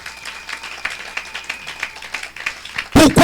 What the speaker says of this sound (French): Acclamons pour la gloire éternelle notre Dieu